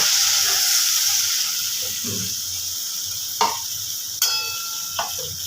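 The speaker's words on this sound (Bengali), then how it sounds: "এবার দিয়ে দেবো এতে একটু জল" Water poured into a hot pan of drumstick-flower posto hisses into a loud, steady sizzle that slowly fades, with a few sharp utensil clinks near the end.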